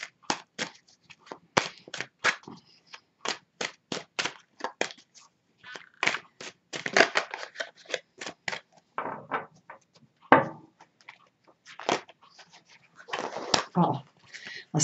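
Tarot cards being shuffled during a love reading, a string of sharp papery riffles and slaps in an uneven rhythm, close by, with brief pauses between bursts.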